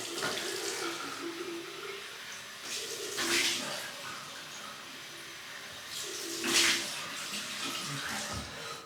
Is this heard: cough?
no